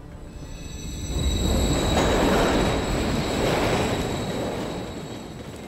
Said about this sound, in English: Another train coming.